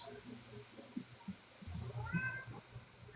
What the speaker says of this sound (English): Who's got the kitty cat?